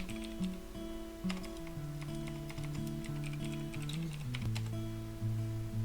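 Password keystrokes on a computer keyboard during a Lubuntu login, a quick run of crisp clicks and taps over a steady tonal hum.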